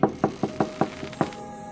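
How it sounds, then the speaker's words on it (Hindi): Seven sharp knocks on a wooden door in a quiet room at night, loud and evenly spaced, each a hollow thud, with no other sound around them. "जैसे कोई दरवाजा खटखटा रहा हो।"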